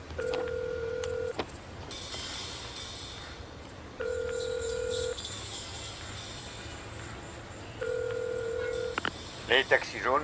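A telephone line plays three long repeated ringback tones with pauses between, heard close, then a few quick electronic chirps at the end.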